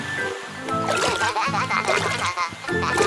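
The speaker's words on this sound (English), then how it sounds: "Look, the fountain is working." A cartoon fountain, filled by a water tanker, splashes and gurgles continuously in a burbling wash under a bright animated music track with playful sound effects.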